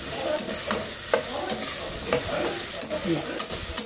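Turmeric and soft potatoes cook in a pan, a steady sizzle broken by repeated scrapes and clinks of a spoon stirring against the metal at close range, with no talking.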